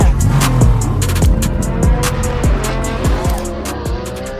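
A drift car in professional competition squeals its tires continuously while the engine revs rise and drop in rapid repeated shifts, loud and close throughout.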